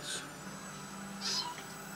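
A cat meows twice, with a short cry at the start and a louder one about a second later, close by over a quiet background.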